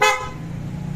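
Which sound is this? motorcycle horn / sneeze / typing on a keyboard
motorcycle horn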